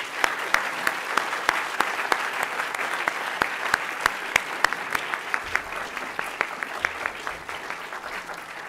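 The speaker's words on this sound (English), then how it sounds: "Let's give them a round of applause." Audience at a Yale literary prize ceremony applauding the year's recipients, a dense, steady round of clapping with sharp individual claps standing out, holding level before easing slightly near the end.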